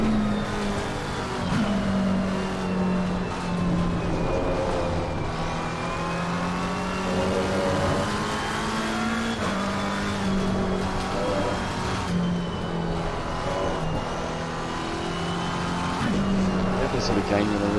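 A McLaren 720S GT3 race car engine in the Automobilista 2 or Assetto Corsa Competizione racing game drones steadily and loudly as it rises and falls through the gears, while someone talks continuously over it.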